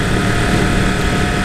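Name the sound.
2017 Yamaha R1 motorcycle cross-plane engine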